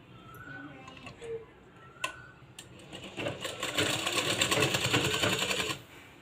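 A sewing machine stitches blouse fabric with a few isolated clicks and taps at first, then a fast, steady run of needle rattle that builds and holds for a couple of seconds before stopping abruptly.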